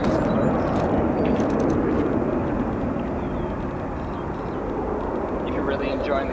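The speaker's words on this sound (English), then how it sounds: "As an Embraer 175 long range" An Embraer 175 long-range jet departing Chicago O'Hare makes a continuous broadband engine roar at a moderate distance that stays fairly even for several seconds.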